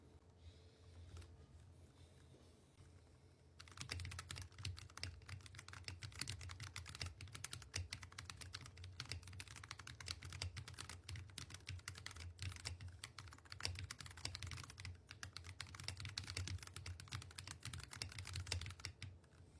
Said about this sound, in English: I'm going to type on it for about 15 seconds because I really enjoy how it sounds